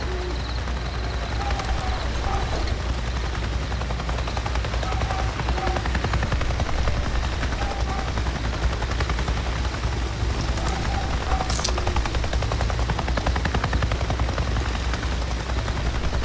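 Helicopter landing in the video game Days Gone, a dense, continuous rotor thrum and engine roar that stays loud and close, with faint hooting-like tones and a brief sharp crack partway through.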